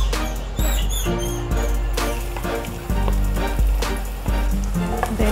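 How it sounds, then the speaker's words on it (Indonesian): Garlic sautéing in oil in a pan for Filipino arroz caldo, a steady close sizzle running throughout, with brief high chirping sounds near the start. "Igisa natin po yung bawang."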